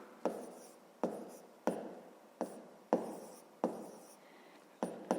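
Pen strokes tap and scratch on paper as a fraction is written out by hand for a 5th-grade math exercise, a quiet, close series of about eight short, regularly spaced scratchy strokes with no talking.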